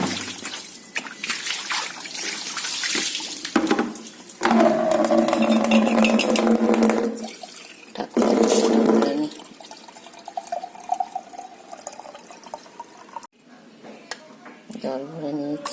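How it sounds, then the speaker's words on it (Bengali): Tap water trickles and splashes as a container fills in a home kitchen during a sunny morning's tea-making, the flow steady at first, then swelling louder mid-way before easing to a quieter dribble, with no voices. "জল ভরে নিয়েছি।"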